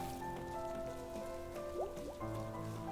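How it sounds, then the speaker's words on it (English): Steady rain patters in the video game Night in the Woods, a soft continuous wash with faint tonal ambience and a few drips layered over it, no voices. "Another rainy day. Oh, I love the rain."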